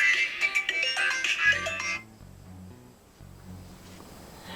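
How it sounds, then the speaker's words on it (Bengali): An incoming call sets a phone ringtone playing, a bright melodic tune for about two seconds before dropping to a quieter low-pitched continuation, with no speech over it. "ও আবার ফোন দিছে।"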